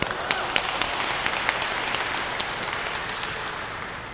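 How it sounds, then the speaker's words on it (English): Parents applauding preschool teachers at a pre-K graduation ceremony, a broad wash of many hands clapping with scattered sharper claps standing out, sustained and fairly loud without fading. "Let's give them a round of applause"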